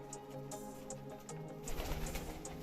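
Soft, repeated cooing from pigeons, low and murmuring, with several overlapping calls and faint chirps in a steady background hum.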